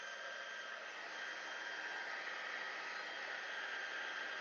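A heat embossing gun blows hot air steadily over faux patina embossing powder, a constant faint hiss with no breaks.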